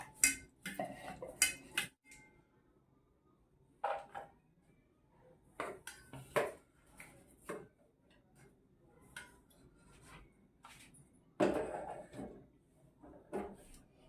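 Cut potatoes being rinsed in a pot produce scattered clinks, knocks and clatters of metal, coming in short bursts separated by quiet gaps, fairly faint and close.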